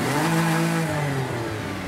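A basic car engine in a flying-car game drones and revs loudly, its pitch gliding steadily downward as it winds off over nearly two seconds with no talking.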